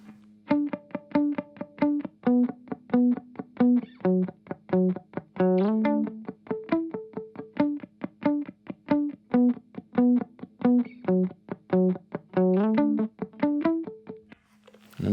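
Dry electric guitar with delay and reverb switched off plays a simple repeating pattern on the third and fourth strings. Steady, closely picked notes run throughout at moderate loudness, a little gritty, with no voice.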